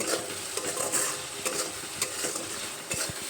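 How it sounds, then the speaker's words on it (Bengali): Spices and salt stirred in a frying pan for a papaya and masoor dal dish: steady sizzling with repeated scraping strokes and the clink of a utensil against the pan, close and continuous. "লবণ দিয়ে আবার একটু নেড়ে চেড়ে নেব"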